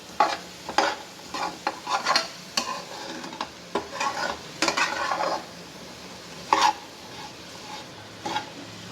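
Onions for chutney fried in a pan and stirred with a utensil: a soft sizzle runs under repeated scraping and clattering strokes against the pan, loud and close, in an uneven rhythm.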